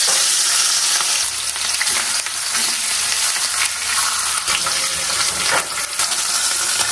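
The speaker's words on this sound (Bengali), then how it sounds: "কড়াই তেল গরম হয়ে গেছে, মাছ ছেড়ে দেবো।" Katla fish pieces fry in hot oil in a wok, giving a loud, steady crackling sizzle that runs throughout, with a few brief spatters and scraping stirs and no talking.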